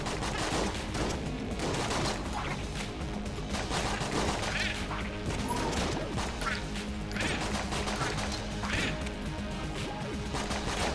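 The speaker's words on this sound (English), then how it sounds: "Got a decent exploding corpse effect there" Exploding enemy corpses in a first-person shooter video game, a run of bursting crashes and thuds over a busy layer of continuous gunfire and game noise.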